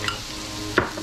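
Peppers and spring onion frying in a pan for an Ecuadorian lentil rice dish, a steady soft sizzle with a brief stir or clink near the end.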